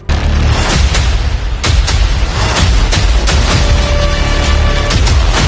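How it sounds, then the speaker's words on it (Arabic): Repeated heavy explosions from a film scene of cars blowing up one after another in the desert, loud booming blasts stacked in quick succession over a constant roaring rumble with no talk. "مشهد الانفجارات الغير مبرر في الصحراء، عربية انفجرت فبقية العربيات حبت تجاملها فانفجرت معاها"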